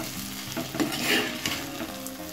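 Okra (lady finger) being stirred in a pan as it fries with spice powder over low flame, a steady sizzle with scraping strokes of the spoon, close and moderately loud, no voices.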